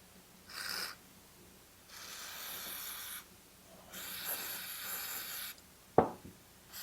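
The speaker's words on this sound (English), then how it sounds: "I'm just going to use some carb cleaner." Carb cleaner sprayed onto a Stihl MS441 chainsaw carburetor in three hissing aerosol bursts, short then two longer ones, close and fairly loud, ending with a sharp click or tap.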